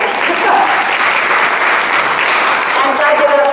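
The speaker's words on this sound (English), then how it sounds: "So an applaud to you for all showing up today." Loud, sustained audience applause at a women's network leadership event, dense steady clapping from a room of people with no pause.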